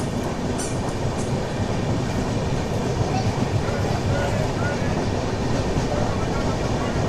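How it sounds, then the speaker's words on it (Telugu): The Bokaro Express pulls away from Tuni station, a steady rolling rumble with rhythmic wheel clatter heard from inside the train, with faint chatter of passengers under the noise. "ట్రైన్ వచ్చేసి తునికి అయితే వచ్చింది, బయలుదేరిపోయింది."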